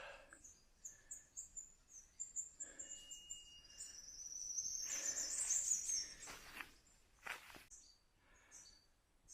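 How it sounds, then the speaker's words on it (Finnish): Birds sing and chirp in the Peruvian jungle, with several high, thin calls and trills coming from various distances over quiet insect buzz. A short louder burst of song rises near the middle of the clip. "Linnut laulaa."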